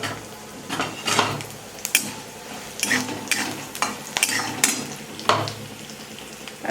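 Whole garam masala spices (cardamom, cinnamon, cloves, cumin seeds and black peppercorns) hiss and crackle in hot oil while a utensil scrapes and stirs the pan in repeated close strokes, with no talking.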